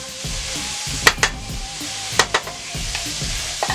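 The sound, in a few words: bell pepper and celery searing in a pan with olive oil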